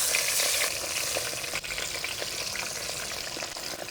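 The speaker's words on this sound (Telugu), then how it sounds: "ఉప్పు చేప ముక్కలు చక్కగా ఎర్రగా వేయించుకొని పక్కన పెట్టుకుందాం" Salted dry fish pieces fry in hot oil with a steady, dense sizzle, crackling loudly at first and then settling into a constant close hiss with small pops, and no voices.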